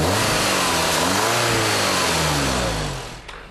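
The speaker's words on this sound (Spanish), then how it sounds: "El motor es un turbo 2 litros TFSI con inyección directa, completamente nuevo." A new 2-litre turbocharged direct-injection TFSI four-cylinder in an Audi S3 revs hard and loud, pitch sweeping up and down through several throttle blips before dropping away at the end.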